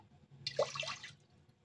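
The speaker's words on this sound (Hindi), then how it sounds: "वन गिलास वन एंड हाफ गिलास में पानी ऐड कर रही हूँ" Water pours into a vessel for rose sharbat syrup, a single short splashing gush that swells and fades within about a second in a quiet kitchen.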